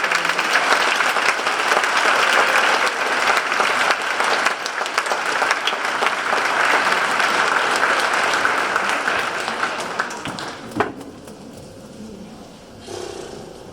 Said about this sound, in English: ladies and gentlemen, please give a big round of applause for these.